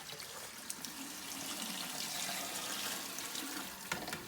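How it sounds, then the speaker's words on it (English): Cold tap water pours steadily into a half-gallon pitcher indoors, a close, continuous splashing hiss with a faint clunk near the end and no talking. "It's cold water coming out."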